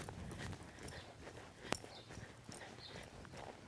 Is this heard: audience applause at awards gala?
no